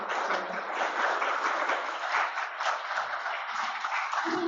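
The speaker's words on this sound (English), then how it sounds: "Let's give these women a quick round of applause, and a round of applause for being here." An audience at an evening talk applauding, a dense continuous clapping that stays steady and fairly loud for several seconds before thinning slightly at the end.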